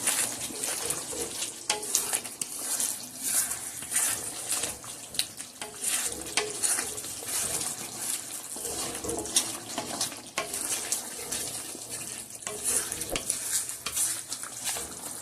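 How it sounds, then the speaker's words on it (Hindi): Chicken wings for a karahi are stir-fried in a pan, producing a dense, continuous sizzle with frequent close scraping and clattering stirring strokes throughout, and no talking. "और इसको अब बुनाई करते हैं थोड़ी सी, तो ये इंशाल्लाह रेडी हो जाएगी।"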